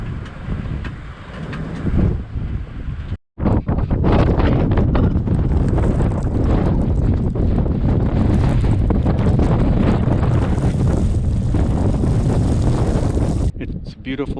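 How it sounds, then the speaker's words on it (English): Strong wind gusting across open sandy ground at a Lake Powell campground, a steady loud roar battering the microphone for most of the stretch, with one brief dropout near the start. "You can probably hear the wind blowing through that thing."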